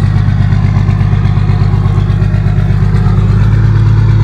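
A Nissan Patrol TD42 turbo diesel fitted with a full exhaust, running loud and close with a deep, steady rumbling drone and a fast pulsing beat, no talk over it.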